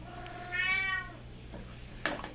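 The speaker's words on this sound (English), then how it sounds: "My cat's got a big mouth." A cat lets out one clear, drawn-out meow at close range in a kitchen, followed by a brief clatter, with a steady low hum underneath and no talking.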